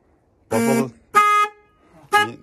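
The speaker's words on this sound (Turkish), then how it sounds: "bas bakayım kornaya" Three loud car horn honks, each about half a second long, separated by short pauses, with nothing else audible between them, from a faulty horn under repair.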